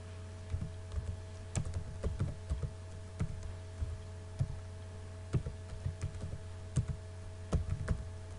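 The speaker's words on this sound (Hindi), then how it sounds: "टैब का बटन प्रेस करेंगे" Computer keyboard keys pressed repeatedly, including the Tab key, while working in AutoCAD: a steady patter of soft clicks over a constant electrical hum and low room noise, with no voices.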